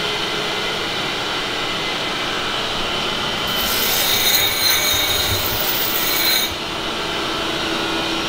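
A boron dressing stick rough-dresses a radius into a grinding wheel, giving a coarse scraping rasp that swells for about three seconds mid-clip over a steady grinder hum.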